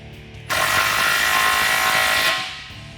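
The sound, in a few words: tightening exhaust fasteners on a Dodge Challenger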